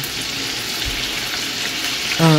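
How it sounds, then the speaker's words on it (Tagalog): Onions sizzle and sauté in olive oil, a close, continuous frying hiss that holds steady, with a brief clunk early on. "Gisayin natin ng bahagya ang ibang sibuyas."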